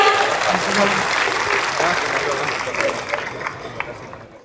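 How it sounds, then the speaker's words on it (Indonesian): An audience of regional government heads applauds to welcome the Vice President of Indonesia, steady dense clapping filling the hall and slowly thinning out toward the end, with some voices mixed in. "Kita berikan aplaus Bapak Ibu sekalian."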